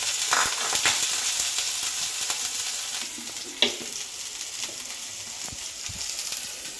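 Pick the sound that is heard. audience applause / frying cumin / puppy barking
frying cumin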